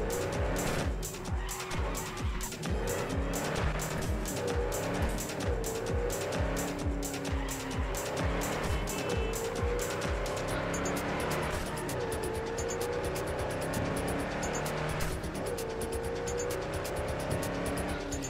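A modded car in Cyberpunk drives hard for a sustained stretch, its engine droning loud and close while tires squeal and skid repeatedly through turns, with no talk over it.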